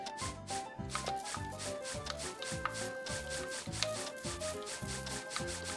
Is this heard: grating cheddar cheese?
yes